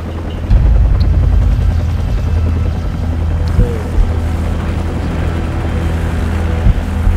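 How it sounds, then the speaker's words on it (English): A helicopter in the Call of Duty 4: Modern Warfare video game gives off a loud, constant low rotor drone that fills the scene, with occasional game sounds mixed in. "Take out that helicopter."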